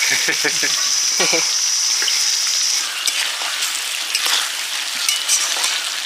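Onions fry in a pan with a loud, continuous crackling sizzle heard up close, a few brief voice-like sounds near the start, then a steady frying hiss.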